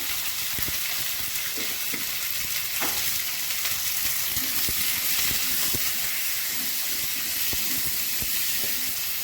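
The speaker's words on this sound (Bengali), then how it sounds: "এবার আমি সবজিগুলো ছেড়ে দিচ্ছি, জিরে ছেড়ে দিচ্ছি" Vegetables and cumin seeds sizzle in hot oil with a loud, continuous frying hiss, broken by scattered spatters and faint scraping stirs across the whole stretch.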